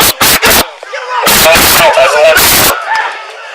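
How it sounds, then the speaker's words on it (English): Gunshots ring out in a fast cluster of loud, sharp bangs, followed by a longer burst of rapid shots; shouting voices sound between and over the firing. "Shots fired. Shots fired."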